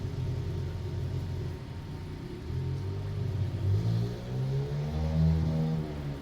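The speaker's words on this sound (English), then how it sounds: "A little fucker on a motorbike outside again." A motorbike passes outside, a low rumbling engine that rises and swells with revving in the last few seconds, heard through a home-brewing setup's steady background hum.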